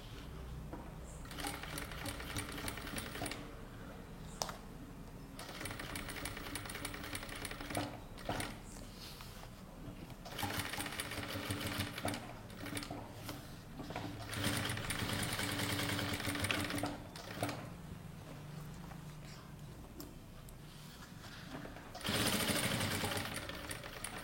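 A sewing machine stitches elastic onto a waistband, running in long steady bursts with short pauses between them and a mechanical rattle throughout, fairly close and with almost no talk over it.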